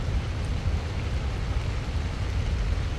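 Heavy rain falls at night during a thunderstorm on the Shrikhand Mahadev trek in Himachal Pradesh. It makes a steady, dense, loud roar with a rumbling low end, and no one speaks.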